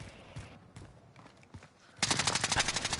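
Warzone video game gunfire: faint scattered shots and quiet game sounds, then a loud, rapid automatic burst of close shots in the final second.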